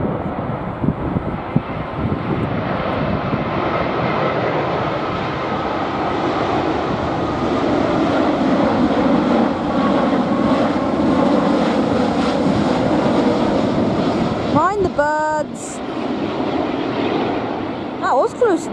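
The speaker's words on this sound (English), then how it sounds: "Here we have British Airways on the 787." British Airways Boeing 787 jet at Heathrow, a loud, sustained broadband engine roar that builds and holds for most of the clip, with brief talk near the end.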